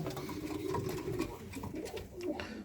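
Young pigeons cooing in a loft, soft low repeated coos overlapping one another at close range with faint rustling and background clatter, no talking.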